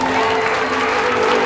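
Church congregation applauding and cheering loudly, a dense steady roar of clapping and voices filling the whole short moment.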